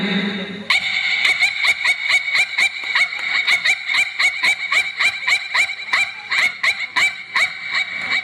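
A performer on stage imitates a Pomeranian's bark with his voice, a quick run of about twenty sharp, evenly spaced yaps, loud and close throughout.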